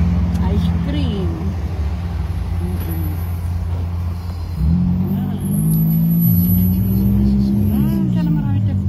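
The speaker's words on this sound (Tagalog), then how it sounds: "Ang dami sasakyan sa kabila." Steady road traffic with many cars passing and engines droning nearby, a vehicle rising in pitch near the end, while someone talks over the constant roar.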